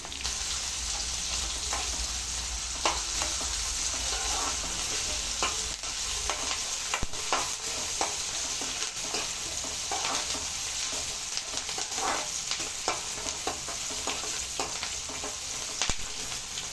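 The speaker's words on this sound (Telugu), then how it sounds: "ఆనియన్స్ వేసుకొని ఫ్రై చేసుకుందాం." Sliced onions frying in hot oil with mustard seeds, cumin and fenugreek, a steady, fairly quiet sizzle throughout with scattered light stirring scrapes and small pops, no voices.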